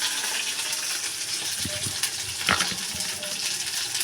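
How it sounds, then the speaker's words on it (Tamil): Okra deep-frying in hot oil for a buttermilk curry, giving a steady, dense crackling sizzle throughout, with a few soft clinks and stirs partway through. "வெண்டைக்காய் ஒரு பக்கம் டீப் ஃப்ரை ஆகட்டும்"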